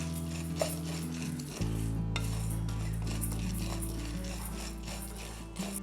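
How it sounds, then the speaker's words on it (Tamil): Urad dal being stirred and sautéed in a pan, likely for a drumstick leaf idli powder, with steady scraping and rustling of the stirring over a faint dry sizzle and low background hum. "கைவிடாமல் இதை வதக்கினே இருங்க"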